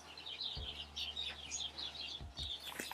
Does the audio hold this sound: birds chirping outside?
yes